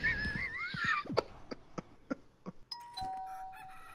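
A doorbell in the video game Content Warning rings out near the end with a clear two-tone chime, after a scatter of short clicks and knocks.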